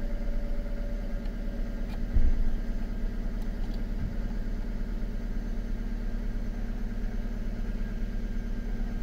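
A Hyundai Accent engine idles steadily close by, a smooth low hum with a faint vibration, and a brief clunk partway through.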